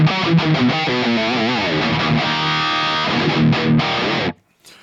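A heavily distorted electric guitar played through the FLESHROT amp suite plugin's default preset plays chugging chords and sustained notes, loud and close, then cuts off abruptly into near silence.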